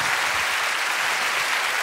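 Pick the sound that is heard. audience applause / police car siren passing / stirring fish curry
audience applause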